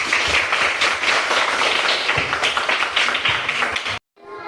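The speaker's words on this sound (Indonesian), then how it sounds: "Tepuk tangan untuk kita semua." Classroom group clapping hands together, dense loud continuous applause for about four seconds before cutting off abruptly into near silence.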